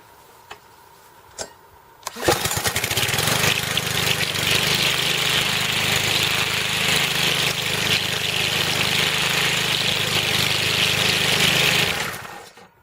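A Cub Cadet ST 100 field trimmer mower's gasoline engine fires up after a couple of faint clicks, then runs steadily and loud at a close, even idle for about ten seconds before cutting off; no talk.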